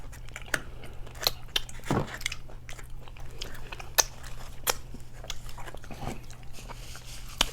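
Plain Buffalo Wild Wings chicken wings bitten and chewed up close, with loud crunchy crackles and wet munching in an irregular steady rhythm, no talking.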